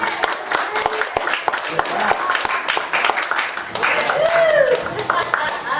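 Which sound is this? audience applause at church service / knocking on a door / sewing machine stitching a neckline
audience applause at church service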